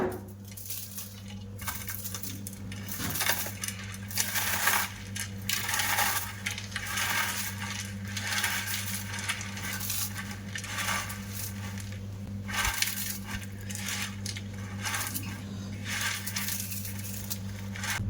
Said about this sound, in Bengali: এবার আমি হাত দিয়ে ভেঙে গুঁড়ো করে নেব।